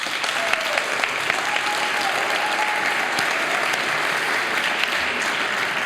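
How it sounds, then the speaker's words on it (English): Audience applause at an evening talk, a full steady clapping with a few brief tonal sounds and faint crowd noise mixed in, no clear speech. "A well-deserved round of applause."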